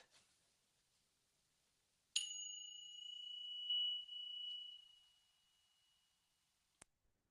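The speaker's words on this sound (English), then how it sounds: "Let me ring our bells for us." A single bright bell is struck once during a savasana yoga session and rings out with a long, sustained shimmering tone that slowly fades, followed later by a faint brief tap.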